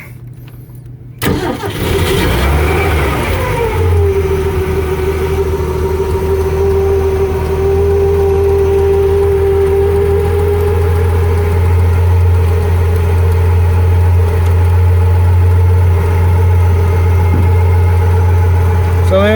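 A 1966 Ford Econoline van engine cranks and fires up after about a second, revs briefly, then settles into a loud, steady idle with a low rumble lasting the rest of the clip.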